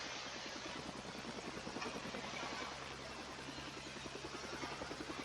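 A Blizzard kit radio-controlled helicopter hovers close by, its spinning rotors giving a steady, loud buzzing whir with a rapid pulsing flutter that holds level throughout, no voices over it.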